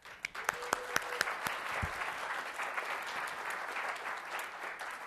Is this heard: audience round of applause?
yes